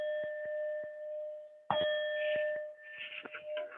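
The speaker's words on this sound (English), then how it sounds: "So I'm going to do the gong 3 times" A gong struck during a yoga session rings out with a sustained metallic tone that decays slowly, followed by a sharper, louder strike and a shimmering wash of overtones.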